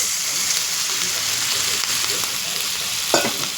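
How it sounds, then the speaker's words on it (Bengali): Chili chicken sizzling loudly and continuously in a pan while being stirred, with a sudden brief splashing burst near the end as a little water goes in. "আমি অল্প একটু জল দিয়ে দেবো এর মধ্যে।"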